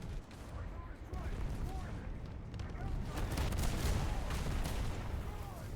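Enemy gunfire striking the player's vehicle in War Thunder, a dense, continuous barrage of cracks and booming rumble that stays loud throughout, with faint chirping tones over the noise.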